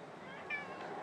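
A pet cat in a condo lets out a short, faint meow against a steady background hum, heard alone without talk.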